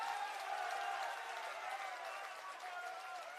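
A crowd at an election rally claps in support, a distant, even roar of applause heard faintly and holding steady without a break.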